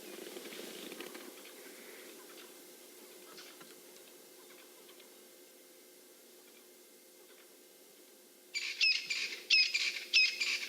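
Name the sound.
Francolins calling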